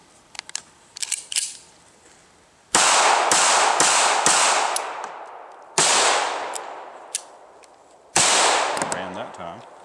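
A DiamondBack 380 pistol, back from factory repair, fires several sharp loud shots in quick bursts, each with a decaying echo, after some faint clicks and handling noise.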